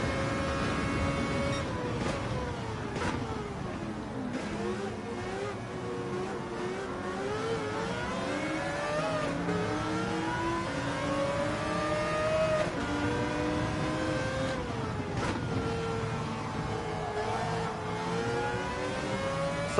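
Race car engine in Gran Turismo 7 during an endurance race at Spa, revving steadily and loud throughout with rising and falling pitch as gears shift, no talk over it.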